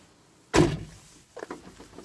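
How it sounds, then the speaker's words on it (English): Rear door of a 2004-2008 Ford F150 Extended Cab shutting with one solid, close thud, followed a moment later by a few faint mechanical clicks of the latch. "we're going to close the door, and this is what we're going to push to test and see if the door is working"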